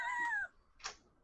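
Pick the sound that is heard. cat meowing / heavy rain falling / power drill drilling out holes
cat meowing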